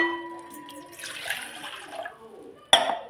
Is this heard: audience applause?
no